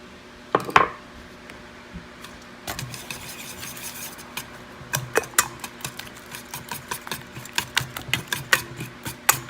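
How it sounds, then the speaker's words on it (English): A whisk scraping and tapping around a bowl while blending a honey mixture until smooth, irregular rhythmic clicks and rubs that build into a steady faster beat, close up. "So it's gonna continue to whisk it until it's nice and smooth."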